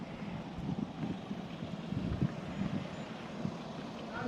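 Cool wind blows outdoors at Khao Ngu park in Ratchaburi, Thailand. It makes a steady, full rushing roar with gusty low rumbles across the microphone, fairly loud and continuous, with no talking.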